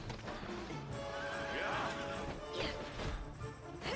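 A horse whinnies loudly in a Dragon Quest XI battle scene, a rising and falling neigh near the middle, followed by clopping hooves, crashing impacts and a second shorter whinny amid busy combat noise.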